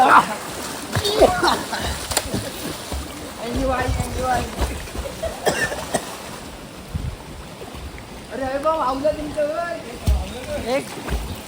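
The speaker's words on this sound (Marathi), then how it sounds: "सगळी मंडळी पाण्यात पोहण्याचा मनमुरादपणे आनंद घेत आहे" Water splashes and sloshes in an open-air natural, chlorine-free swimming pool, with people's voices calling and chattering over the movement of the water.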